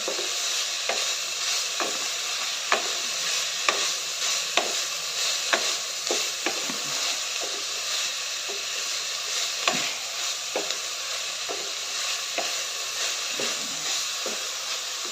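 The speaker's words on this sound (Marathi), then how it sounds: "चांगलं परतून घेऊया गाजर कांदा टोमॅटो काजू थोडंसं सॉफ्ट होईपर्यंत परतून घ्यायचं आहे" Carrot, onion, tomato and cashews stir-fried in a pan for carrot rice, a steady sizzle broken by regular scraping strokes of the spatula, close and even throughout.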